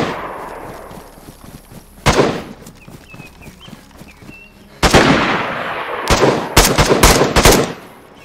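Gunfire from an SKS rifle in DayZ: one sharp shot, then a burst of several rapid cracks, then a quick run of shots near the end, each standing out clearly above faint ambient background.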